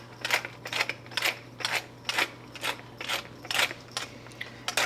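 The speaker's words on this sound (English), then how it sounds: "I am gonna add some fresh cracked pepper." Fresh cracked pepper is ground from a pepper mill in a kitchen. Each twist gives a gritty crunching burst, about ten in an even, steady rhythm, close to the microphone, with a low hum underneath.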